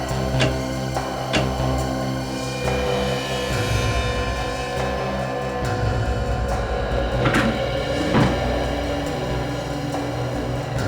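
A heavy wooden cupboard is shifted aside to uncover a concealed door, giving a run of scraping, thudding and creaking knocks over nearly eleven seconds, close and fairly loud, with no talk.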